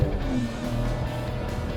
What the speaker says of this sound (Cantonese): 特別係個 clutch 係好多聲